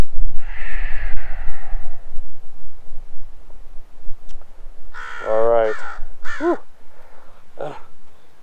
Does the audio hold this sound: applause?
no